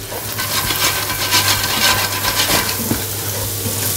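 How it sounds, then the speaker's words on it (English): Pork coated in Chinese five-spice fries in a hot pan, giving a steady, close sizzle with faint stirring scrapes throughout and no talking. "So now it's quite important you want to fry this 5-spice off"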